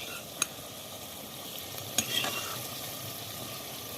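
Potatoes and chicken stirred and frying in a pan for a home chicken curry, a steady soft sizzle with two sharp scraping clinks of the spoon against the pan.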